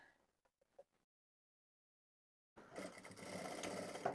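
A sewing machine stitches the straight seams of a fabric pom pom hat, starting after a few faint handling taps and a silent pause, then running in a steady close whirr for over a second.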